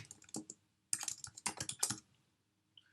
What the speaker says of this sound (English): Or if it's just a one-off service, you can just start typing